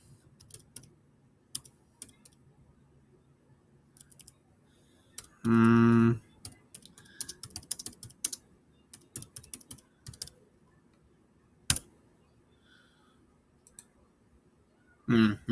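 Typing on a computer keyboard during a Roblox Sky Block game session, with scattered quick clicks and short bursts of keys, several louder clacks, close and crisp, with brief noisy gaps between.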